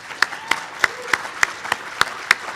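Sparse, evenly spaced claps for Christine at an awards event, about nine sharp hand claps in a steady rhythm over a quiet room, like a small audience or a single person clapping.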